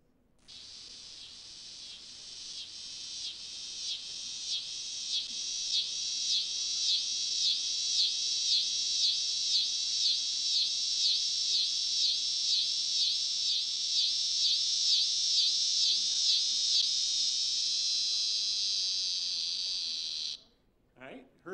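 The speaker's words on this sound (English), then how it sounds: "This is the dog day cicada." A dog day cicada sings a long, loud, pulsing buzz that swells over several seconds, holds steady with rapid rhythmic throbbing, then slows and cuts off abruptly near the end as the insect tires.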